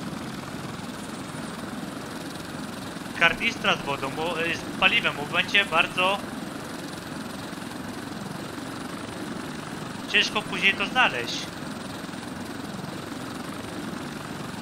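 A gyrocopter in flight in the survival game Stranded Deep on PS4 produces a steady droning engine hum throughout, with someone talking over it in two bursts.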